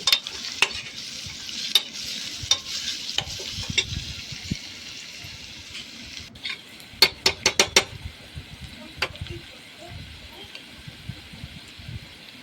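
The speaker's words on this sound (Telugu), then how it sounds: "ఇప్పుడు ఇందులో నేను అల్లం వెల్లుల్లి పేస్ట్ వేస్తానండి." Ginger garlic paste fries in a pan while a spoon stirs it, producing a close sizzle broken by sharp metallic scrapes and clacks that come in quick bursts.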